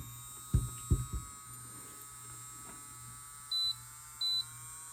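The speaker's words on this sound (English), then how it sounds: "it beeps every time you go up" Two short, high electronic beeps sound a half-second apart over a low steady motor hum as an electric nail file steps up in speed, after a few soft clicks.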